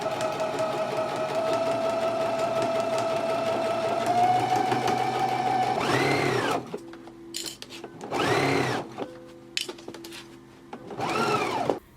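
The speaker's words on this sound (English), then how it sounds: "let's go ahead and stitch our lining to our band now" A sewing machine stitches jacket lining to a band, first whirring in a long steady run, then in three short separate bursts with quiet pauses between.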